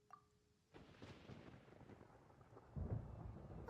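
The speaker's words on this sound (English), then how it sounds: "Paimon hears thunder!" Thunder rumbling in the Genshin Impact video game, a low rolling crack that swells loud near the end over a steady wash of rain-like noise.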